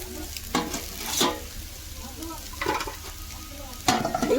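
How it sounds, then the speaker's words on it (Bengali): Chowmein noodles fry in oil with chopped onion and chilli, a steady sizzle broken by several louder scraping stirs of the spatula, close and without talk. "চাউমিনটা আমি ভেজে নিচ্ছি তো পেঁয়াজ আর লঙ্কা কুচি তেলে দিয়েছিলাম"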